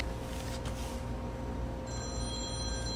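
A phone rings with a steady electronic tone that starts partway through, fairly clear over low room noise, with no talking.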